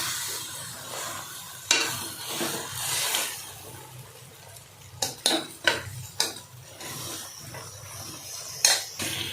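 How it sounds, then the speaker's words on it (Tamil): Country chicken leg pieces sauté with masala in a pan under a soft sizzle. A utensil scrapes and clanks against the pan in irregular bursts, some sharp and loud, with no talking. "நல்லா எல்லாம் சேர்த்து வதக்கி விடலாம்"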